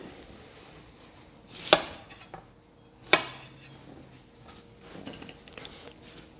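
A knife trims the ends off a parsnip on a cutting board, two sharp isolated chops close by, with faint kitchen clatter afterward and no talking.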